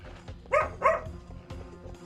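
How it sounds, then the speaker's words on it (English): A pet dog gives two quick barks close by in a quiet indoor room, followed by a fainter yip. "that's my dog. It's my dog, Rook."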